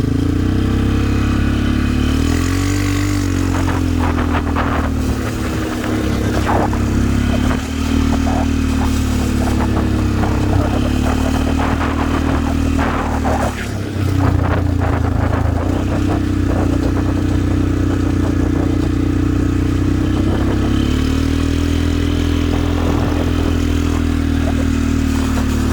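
Quad ATV engine running steadily on a late-night trail ride, a continuous close drone with gentle rises and dips in pitch as the throttle shifts, rattling clatter over it, no voices.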